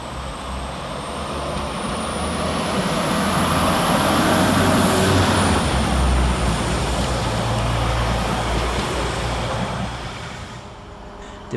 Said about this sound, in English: Departing over on the far side will be 195109, working the 1449 Northern service from Leeds through to Chester.